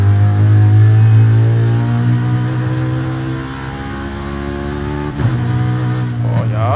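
A BMW M3 GTS E92 on slick tires drifts in Forza Horizon 5, its engine holding a loud, steady droning rev with a brief dip and catch near the end.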